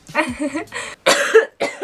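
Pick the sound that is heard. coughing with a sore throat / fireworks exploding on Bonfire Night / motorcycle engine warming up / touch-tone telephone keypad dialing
coughing with a sore throat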